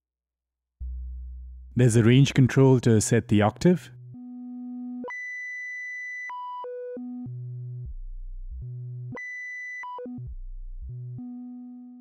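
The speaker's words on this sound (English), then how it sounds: "So now when I play a note, a sine wave is being generated." A CWeJMAN VCO 6 Eurorack oscillator plays pure sine-wave tones that step between sustained notes at different pitches, some low and some high. A person speaks briefly over the first tone.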